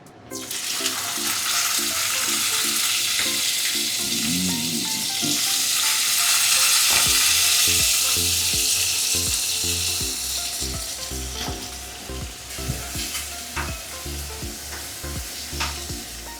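Finely grated radish goes into hot tempering for a radish pickle, setting off a strong continuous sizzle with repeated scraping strokes of the spoon through the pan.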